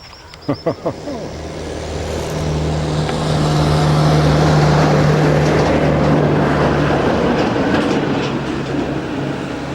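A heavy tractor engine rumbles steadily close by near Loch Voil, Balquhidder, Scotland, building in loudness after a few sharp knocks at the start, with a low droning hum throughout.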